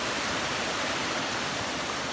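Steady, loud rush of creek water where Rocktown Branch meets Allen Creek among big rocks, a continuous dense wash with no pauses.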